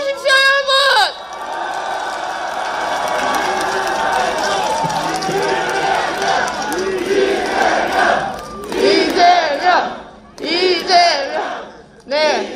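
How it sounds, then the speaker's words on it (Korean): A large election rally crowd in Busan for presidential candidate Lee Jae-myung roars with shouts and cheers, loud and sustained, swelling in bursts and chanting toward the end. "우리 모두 함성과 환호로 이재명 후보에게 든든한 부산의 길을 전해주십시오"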